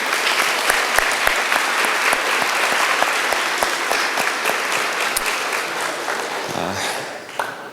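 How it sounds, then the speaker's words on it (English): An audience applauding 8th grade students at an end-of-year celebration, a steady, full round of clapping with sharp individual claps standing out, tapering slightly toward the end. "let's give you a round of applause to these kids"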